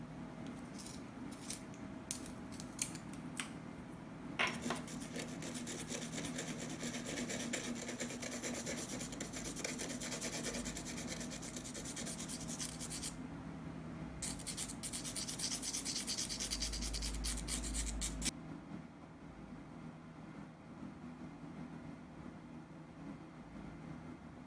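Graphite pencil shading dark foreground areas of a moonlit landscape drawing on paper, a steady close scratchy rubbing with brief strokes at first, then continuous dense scraping that stops, leaving quiet room tone.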